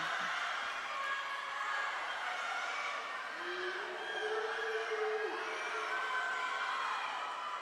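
A crowd cheers and shouts continuously at an indoor swim meet during a girls' 500-yard freestyle finish, a steady mid-distance roar with scattered whoops and no clear speech.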